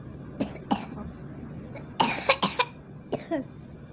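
A child with a cold coughs after waking, in a quiet indoor room: several short, sharp cough bursts, a few spaced apart and then a quicker cluster.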